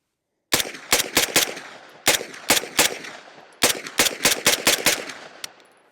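An MP5 submachine gun fires short bursts and single shots until its magazine runs empty, loud sharp cracks in clusters with brief pauses between them, close to the listener, with no talking.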